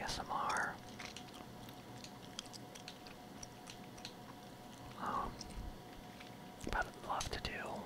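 Gum being chewed close to a microphone, soft wet smacks and clicks coming in a few brief bursts over a quiet background hiss, with faint whispered mouth sounds between them.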